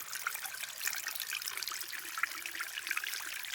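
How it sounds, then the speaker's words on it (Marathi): Water trickles down rocks into a small stream at dusk in rocky countryside, a steady, bright, splashing hiss with no voices over it. "पाणी कसं पडतं इथं"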